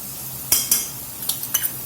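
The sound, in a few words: garlic added and stirred into sizzling pan for Louisiana chicken pasta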